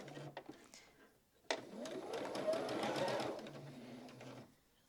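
Sewing machine stitching a straight seam across lined-up corners of a quilt block, starting with an abrupt whir that runs steadily for a few seconds then stops, after some faint handling clicks.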